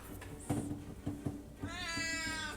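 A house cat gives a long, clear meow near the end, close and fairly loud, after several soft thumps and bumps of movement nearby.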